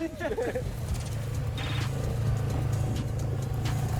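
An off-road SUV, a Mercedes-Benz G-class or Opel Frontera, pulls through a swamp with a steady low engine rumble that holds throughout, a short burst of voices at the start.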